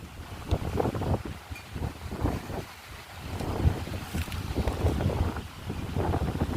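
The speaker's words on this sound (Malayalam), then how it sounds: "ഭയങ്കര കാറ്റാണ്." Very strong, cold wind gusts across a hilltop papaya field planted with young seedlings, roaring and buffeting close against the microphone in uneven surges throughout.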